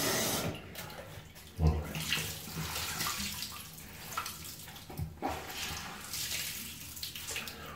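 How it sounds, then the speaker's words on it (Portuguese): Tap water runs steadily into the inside of a goalkeeper glove being washed, a close, continuous splashing rush with a few sharper splashes and no talk. "colocar a torneira por dentro porque aí ela vai lavar a luva por dentro"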